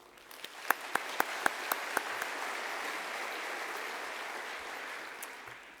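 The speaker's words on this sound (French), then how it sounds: "Je vous demande de l'applaudir, s'il vous plaît." Audience applause in a lecture hall, opening with a few distinct, sharp individual claps that quickly merge into a soft, steady wash of clapping that tapers off toward the end.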